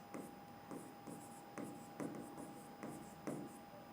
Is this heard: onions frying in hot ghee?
no